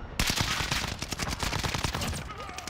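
Rapid automatic gunfire in a video game, a dense burst of loud overlapping shots lasting a couple of seconds, close and sharp.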